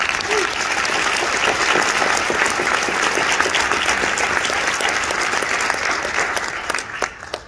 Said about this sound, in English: I think that in itself deserves a big round of applause